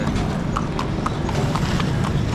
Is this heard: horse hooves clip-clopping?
yes